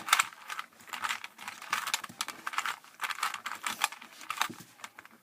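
A new, unlubed Rubik's cube is turned by hand, giving quick bursts of plastic clicks and rattles at an uneven pace, close up with no one speaking.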